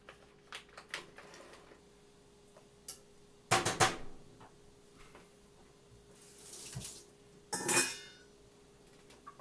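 Dry pasta poured into a pot of water for mac and cheese, giving a few short splashing, rattling bursts against quieter kitchen clatter, near and moderately loud.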